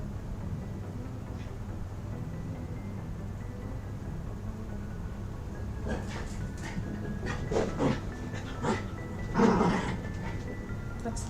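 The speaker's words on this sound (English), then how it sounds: "that's the dog, if you're wondering what that sound is." Soft whimpers and short yips from a dog in the video game Mass Effect: Legendary Edition rise out of a low steady hum, growing more frequent and a little louder toward the end.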